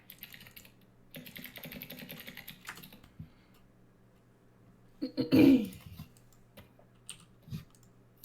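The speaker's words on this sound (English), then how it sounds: "I can hear you typing" Quick, close keyboard typing in bursts of clicks, then a pause with a short cough-like sound and a faint low hum.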